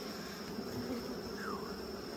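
Honey bees buzz steadily at an open hive during an inspection, a soft, even drone that holds throughout with one brief higher whine sliding past.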